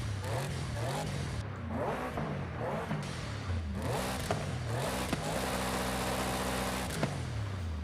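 The Sabre car in Forza Horizon 5 revs its engine repeatedly, rising and falling pitch swells with gear-shift dips, then a steady high held rev near the end, loud and close with no talking.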